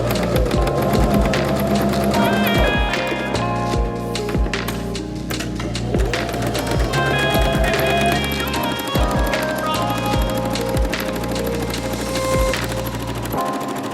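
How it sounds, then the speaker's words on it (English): A sewing machine runs steadily for several seconds in bursts of rapid mechanical stitching, close and fairly loud, with brief pauses between runs. "Now we're gonna head over to the sewing machine and overcast our pieces."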